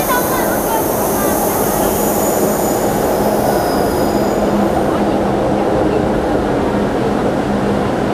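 Hong Kong MTR train on the Disneyland Resort Line pulling into a station platform: a loud, steady rumble of the train with squealing wheels that continues throughout, easing slightly toward the end.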